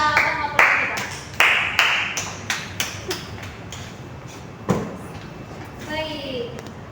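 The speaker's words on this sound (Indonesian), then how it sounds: "Tepuk tangan bagi para pengamat politik kita." Scattered hand claps at a school podcast event welcoming political analysts, a few sharp claps fading into sparse taps, followed by a person talking.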